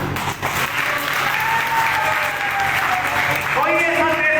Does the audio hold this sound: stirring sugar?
no